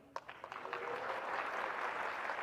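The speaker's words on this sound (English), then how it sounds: "So please clap. Please clap if you're vegan." A festival crowd breaks into clapping, starting with a few scattered claps that quickly swell into steady, dense applause sustained to the end.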